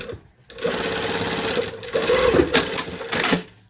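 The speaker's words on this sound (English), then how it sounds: "just sew back down, making sure I'm only sewing on that seam allowance" Domestic sewing machine stitches along a seam allowance while fitting an invisible zipper to elastic-back shorts, running in close, loud bursts of rapid mechanical chatter with brief pauses between runs.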